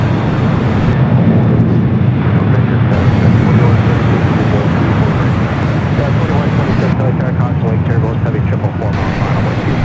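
An Air China Boeing 777-300ER arriving from Beijing at LAX produces a loud, continuous jet rumble throughout, close and heavy, with speech partly mixed in.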